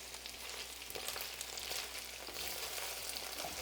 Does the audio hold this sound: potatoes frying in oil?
yes